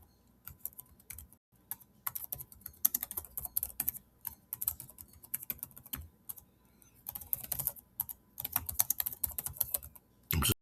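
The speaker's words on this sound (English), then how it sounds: "I can type right in here and put" Rapid, irregular typing on a computer keyboard while entering bulleted text into a slide presentation, a close, steady patter of key clicks with brief pauses between bursts.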